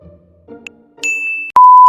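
A notification bell sound effect rings out: a short tick, then a sustained high electronic tone, followed by a loud, clear ding that holds steady to the end.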